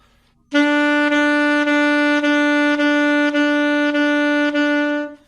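A saxophone holds one pitch while each note is tongued with a "da" syllable, giving about eight repeated notes separated by short soft breaks. The tone is close, loud and steady, with no voice.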